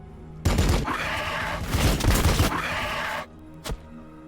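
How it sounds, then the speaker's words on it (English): Gunfire in Warhammer 40K: Battlesector crackles in a dense, loud burst of rapid shots lasting a few seconds, then drops away, with one last sharp report. "and then we're going to basically shoot them."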